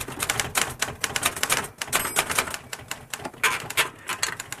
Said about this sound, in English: the noise of his typewriter comes through the thin walls of the rest house